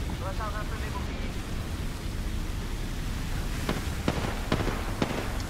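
A thermite grenade goes off in Apex Legends during a festive holiday mode, giving a faint, steady fiery hiss and crackle with a few sharp pops toward the end.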